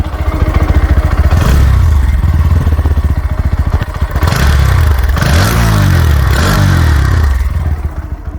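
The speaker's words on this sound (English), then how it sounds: "This was the exhaust note." A Bajaj Pulsar NS 160 motorcycle idles loudly and close, its exhaust note rising and falling through several sharp throttle blips with a throaty, slightly raspy tone.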